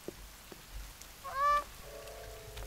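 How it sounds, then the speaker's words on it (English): A waterfowl call in the survival video game The Forest, one loud honking quack rising and falling, then a fainter drawn-out call, set against quiet rain-like background ambience. "anything but the ducks."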